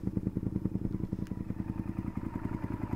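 A 2002 Honda VTR 1000F Superhawk V-twin motorcycle runs on a mountain ride, with its engine giving a close, rhythmic, lumpy pulsing thrum that holds steady throughout without talking.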